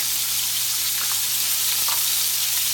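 Butter, shallots and sage sizzle in a hot pan alongside Brussels sprouts and bacon, a steady, close, crackling fry that stays even throughout with no speech.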